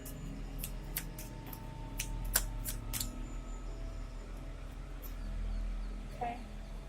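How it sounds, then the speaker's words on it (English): Cards shuffled and drawn from a reading deck, a run of sharp papery flicks and snaps close by, then quieter handling with a faint background hum. "Let's draw one of these cards here."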